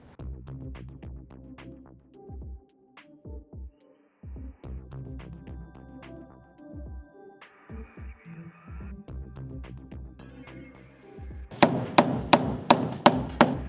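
Hammer blows ring out during roof repair on a war-damaged house, with irregular bursts of knocks and pauses and a steady hum in between, ending in a louder run of sharp, rapid strikes.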